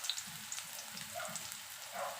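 Garlic fries in a pan for pork adobo, a quiet, even sizzle with faint crackles and pops running steadily without speech.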